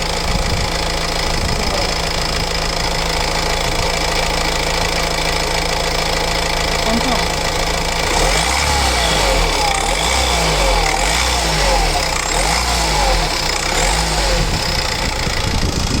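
A 2015 Honda Mobilio's engine idles steadily and loudly up close, with a rough knocking rumble that grows busier halfway through.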